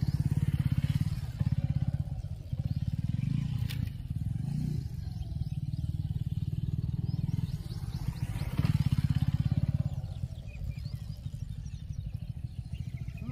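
A heavy Suzuki V-Strom motorcycle idles and creeps slowly in first gear, a low throbbing engine rumble with faint clatter, swelling and easing in short pulses.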